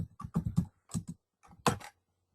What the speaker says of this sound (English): let me type that for Forex VPS